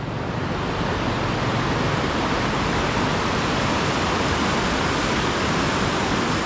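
A river swollen by prolonged rain rushes past in a continuous, dense roar of churning water, loud and close, steady without pause and with no voices.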